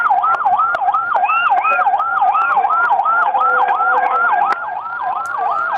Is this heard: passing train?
no